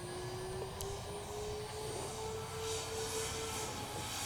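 Twin Timber twin-engine RC airplane in flight, its electric motors giving a steady droning whine that shifts pitch slightly as the plane turns, continuous and fairly close, with wind noise and no talking.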